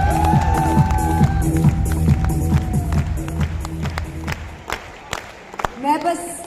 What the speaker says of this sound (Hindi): तो आप सबके लिए, जो भी आप बैठे हैं यहाँ पे, सबके लिए जोरदार तालियां।